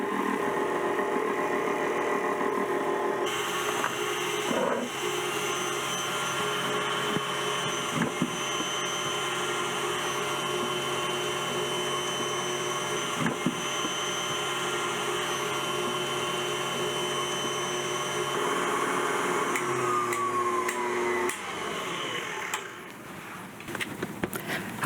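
A stand mixer on low speed whips beef tallow, giving a steady, continuous motor whir with a constant tone throughout, then slowing and dropping off near the end.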